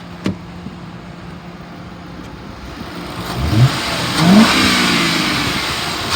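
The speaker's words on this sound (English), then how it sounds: "I'm gonna rev it up so you can hear the motor." A 2010 Ford Crown Victoria Police Interceptor engine with 129,000 miles idles, then revs up twice in quick succession, each rise loud and close, settling back to a steady idle.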